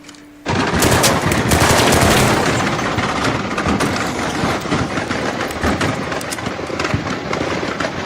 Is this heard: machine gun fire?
yes